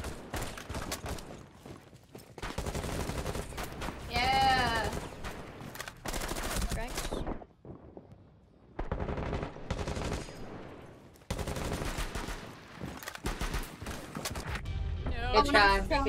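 Rapid gunfire in Rainbow Six Siege, bursts of automatic fire and single shots arriving in several loud, close clusters separated by brief lulls, with players talking over the action.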